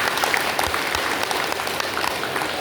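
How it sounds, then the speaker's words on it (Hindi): A room full of people at a yoga session for knee problems bursts into loud, dense applause to welcome a newly arrived man, continuous close clapping with no talking. "इनके लिए जोरदार ताली बजा दीजिए"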